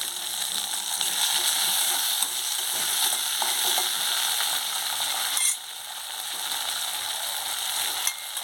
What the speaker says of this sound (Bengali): আজকে আমি লাউ বিচার ভাজা করব